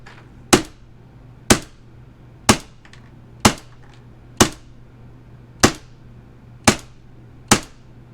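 An AAP-01 airsoft pistol on green gas with a Glock magazine fires eight sharp, evenly spaced cracks about a second apart, close and loud over a quiet background.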